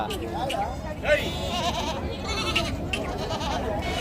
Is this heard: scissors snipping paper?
no